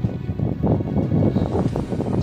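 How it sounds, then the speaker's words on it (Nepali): Strong wind at a high mountain lake above Manang, roaring and buffeting the microphone in a low, continuous rush that swells and eases. "हावा यति धेरै चलेको छ"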